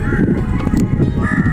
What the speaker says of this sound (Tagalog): Uwak. Yan, oh, ang dami nila,